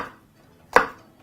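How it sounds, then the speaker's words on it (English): A knife chops through an onion on a cutting board with a single sharp, close knock, preceded by a faint scrape and followed by quiet. "we're going to be chopping that into some very,"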